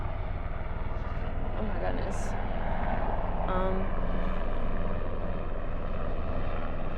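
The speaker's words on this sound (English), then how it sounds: "So sorry about the helicopter." A helicopter flying close overhead, a loud continuous rotor drone filling the whole stretch while someone speaks over it.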